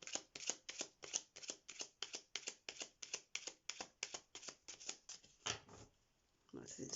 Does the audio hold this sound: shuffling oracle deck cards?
yes